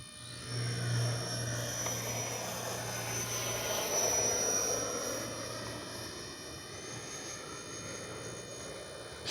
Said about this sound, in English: Definitely a good flying plane.